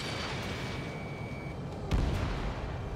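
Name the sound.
missile explosion destroying target, Ace Combat 7 video game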